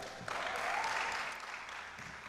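Audience applause at a conference panel on investment in Uganda, a short, steady wash of clapping from a crowd that swells and then gently tapers over a couple of seconds, fairly quiet and with no talk over it.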